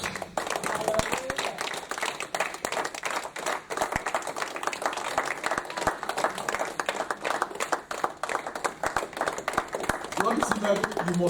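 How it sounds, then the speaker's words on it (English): Congregation clapping for Jesus during a church service, dense sustained hand claps running steadily throughout with a preacher's voice over them. "Come on, keep your Bibles down and clap for Jesus."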